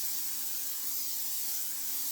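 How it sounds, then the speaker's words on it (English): Cooking spray hissing steadily onto a baking dish in a home kitchen, a continuous close airy spray with no talking over it. "what we got to do right now is spray our dish"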